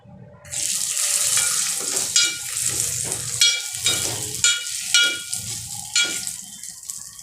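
Raisins dropped into a hot pan with roasted coconut give a steady close sizzle and frying crackle, with stirring scrapes and rhythmic pulses as the pan is worked, no talking.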